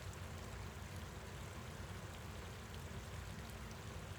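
A glacial mountain creek rushes and bubbles steadily nearby, a dense continuous wash of running water with no other sounds.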